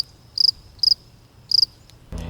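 A cricket chirps as a sound effect in three bright, evenly spaced trilled bursts against quiet, and a low thump cuts in at the end.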